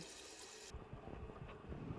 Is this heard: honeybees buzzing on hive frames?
no